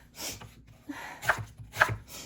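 A knife chops onions on a cutting board in a home kitchen, a few sparse soft cuts followed by two sharper, louder knocks of the blade against the board, with no talking.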